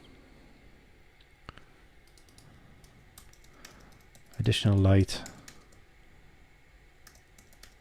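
Light clicks of typing on a computer keyboard tap along quietly in the background, broken by a short burst of speech.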